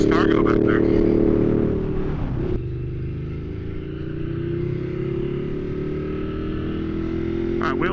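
A motorcycle's exhaust droning loudly and steadily while riding, with a brief dip as the throttle eases before the engine settles into a sustained, slightly rising hum, recorded close up with wind.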